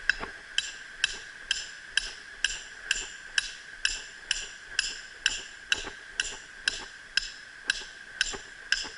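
A hand hammer, used in place of a sledgehammer, drives a trap stake into the ground for a dirt hole set for raccoon, with about nineteen sharp, evenly spaced metallic strikes roughly every half second, close and alone.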